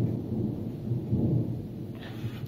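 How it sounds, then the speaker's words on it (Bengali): Thunder rumbling low and heavy during a downpour of rain, a long deep roll that swells and fades under steady rain hiss, with no talk. "আওয়াজটা তো তোমরা শুনতেই পেলেছি যে কত জোরে আর কি বিদ্যুৎ চমকাচ্ছে"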